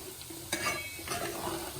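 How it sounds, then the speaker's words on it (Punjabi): A tempering for dal sizzles faintly in a pan, a soft steady fizz marked by a couple of brief stirring scrapes. "ਤੜਕਾ ਮੈਂ ਲਾ ਲਈ ਹੈ"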